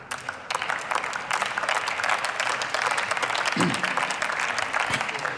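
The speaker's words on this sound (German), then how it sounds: "Applaus" Applause in the German Bundestag chamber, a steady round of clapping from parliamentarians lasting several seconds, moderately loud and even, with a faint voice briefly near the end.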